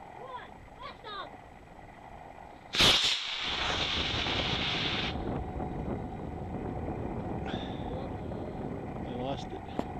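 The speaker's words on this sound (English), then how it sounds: "See engine. 3, 2, 1, blast off!" A homemade model rocket launches with a sudden loud burst of hissing roar that holds for a couple of seconds and then fades into wind and background noise, with people talking before and after.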